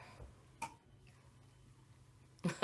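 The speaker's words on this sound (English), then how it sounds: "right as he's coughing" A couple of brief, muffled coughs, one early and one louder at the end, over quiet room noise.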